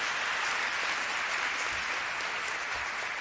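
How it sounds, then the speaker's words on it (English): Audience at an International Day of the Seafarer event gives Ms. Teresa Williams a warm round of applause, even and continuous clapping heard at a moderate distance and fairly soft. "can we please give her another warm applause?"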